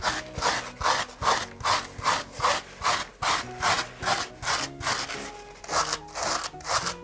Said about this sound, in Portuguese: essa escova me favorece para atingir um resultado que eu não conseguiria com a faca